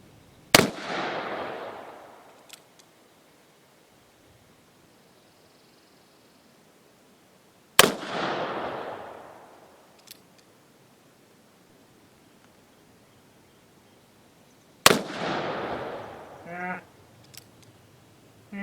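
Three loud gunshots from a Colt 1860 Army black-powder revolver firing Johnson & Dow bullets, spaced about seven seconds apart, each a sharp crack followed by a long echoing decay outdoors.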